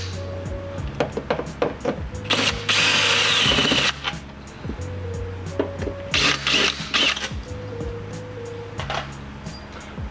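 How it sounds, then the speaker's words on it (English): Power drill backing screws out of a Jeep Wrangler light assembly, with short repeated whirring bursts and two longer high-pitched runs, close and fairly loud, with clicks and handling noise between them and no talking. "We're going to use a drill, just to make the process a bit quicker for you."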